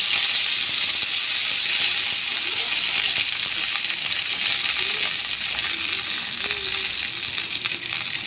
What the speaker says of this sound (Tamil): கடுகு பொடிஞ்சோடனே கருவேப்பிலை போட்டுக்கோங்க